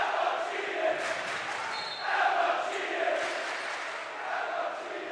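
The Notre Dame cheer team screams and yells at a high school basketball game, a steady loud crowd roar with rising surges under commentary.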